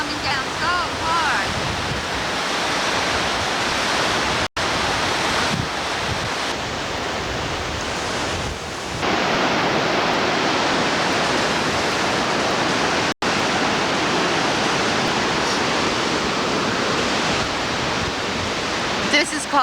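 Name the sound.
waterfall at Grand Canyon of St. Anne, Quebec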